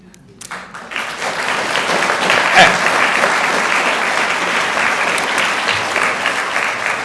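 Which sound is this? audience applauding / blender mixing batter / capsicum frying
audience applauding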